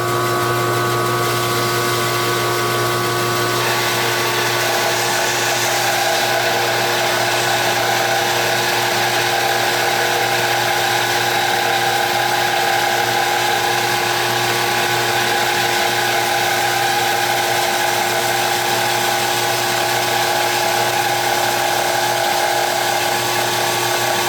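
A bandsaw runs continuously for about twenty-four seconds, cutting the back off a wooden bandsaw box with a steady, loud whine and hum that never lets up.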